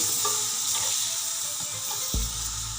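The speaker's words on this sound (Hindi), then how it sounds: "देखिए हल्के हाथ से भून रहे हैं हम इसे।" Goat trotters for mutton paya are gently fried in a pot, giving a continuous close sizzle with soft stirring and a low thump near the end.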